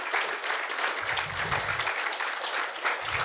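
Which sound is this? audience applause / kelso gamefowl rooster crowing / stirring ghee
audience applause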